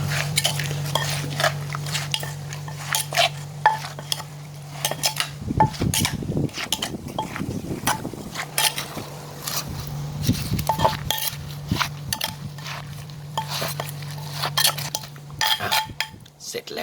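Green papaya salad (som tam) being mixed in a mortar, with repeated clinking and scraping of a spoon and pestle against the bowl, a steady background hum and a burst of louder stirring midway.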